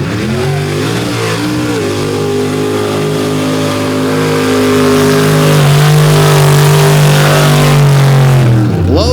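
A big Chevrolet drag race car at a mud drag event roars loud and close, its deep engine note holding steady and building slightly as it drives down the track.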